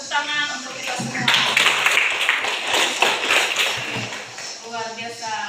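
Classroom applause from a group of students, a burst of many hands clapping at once that swells and then fades, heard under a teacher's speech.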